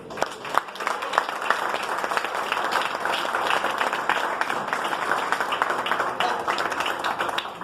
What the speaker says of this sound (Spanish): Denle un aplauso a Dios, que es bueno.